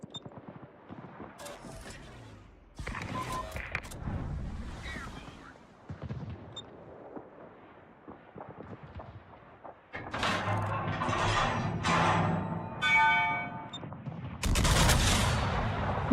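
Naval gunfire booms in World of Warships as an enemy ship fires HE shells, a series of heavy bursts and rumbling salvos, sparse at first and then denser and louder, with brief talk in between.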